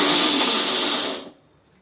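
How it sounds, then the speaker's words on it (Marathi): A mixer grinder whirs loudly for about a second and a quarter, grinding roasted dal in a short pulse, then cuts off abruptly into quiet. "ऑन ऑफ करत 2-3 वेळा मिक्सर फिरवायचा"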